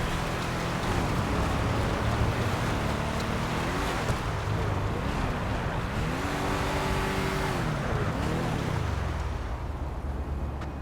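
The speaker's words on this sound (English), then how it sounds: "we're going to drive back to the salvage yard in the car" A car being driven in GTA Online, its engine humming steadily with rising and falling revs as gears shift, mixed with road and wind noise throughout and easing off near the end.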